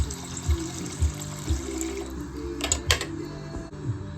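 Water pours into a bowl in a home kitchen, filling it to soak freshly cubed organic potatoes, a steady close trickle with soft knocks and a couple of sharper splashes partway through.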